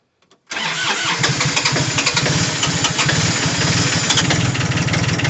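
A 1980 Kubota diesel tractor engine fires up after a couple of faint clicks, then settles into a loud, steady, chugging idle close by, with no voices.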